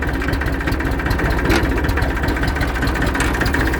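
A Massey Ferguson 240 tractor engine idles steadily and close by, with a continuous low rumble and even mechanical chugging throughout, running alone with no talk.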